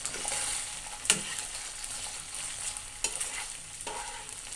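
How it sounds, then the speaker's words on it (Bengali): Rice fries in a pan with soy sauce and tomato sauce, sizzling steadily under the close scrape and clatter of a spatula stirring it, with a few sharp knocks against the pan. "সয়া সসটা সহকারে আমি এটা ভেজে নেব সুন্দর করে"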